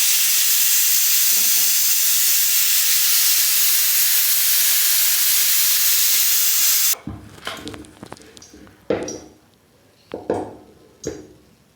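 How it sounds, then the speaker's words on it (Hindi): A loud, continuous hiss of steam released from a pressure cooker of boiled beans rushes for several seconds, then cuts off, followed by scattered clinks of pots and utensils. "कुकर में 2 सीटी लग गई हैं, फ्लेम को बंद कर देंगे और इसमें जो भाप है उसको निकाल लेंगे"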